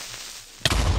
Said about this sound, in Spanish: no hay manera de aguantar la explosión de un creeper cargado